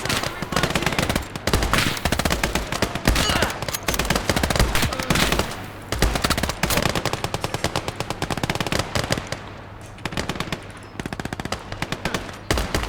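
Rapid machine-gun bursts and rifle fire in the Gates of Hell war game, Finland versus USSR, rattle loudly and almost continuously, with short gaps between volleys and distant booms underneath.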